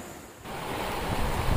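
A rain-flooded river rushes past, a broad, dense roar of water that swells loudly after a brief quieter start, with no voices.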